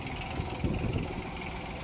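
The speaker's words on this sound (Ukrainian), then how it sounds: "Ось такий тракторець такою, на такій резині, з такою фрезою." A Yanmar Ke3 three-cylinder tractor fitted with a rotary tiller idles with a steady, low, continuous rumble that holds even throughout, with no voices over it.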